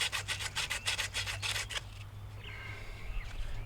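Emery cloth rubbed back and forth over a corroded copper air-conditioning line on a Trane condensing unit, about nine quick rhythmic scrubbing strokes close up, then a faint scrape.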